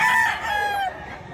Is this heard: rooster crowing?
yes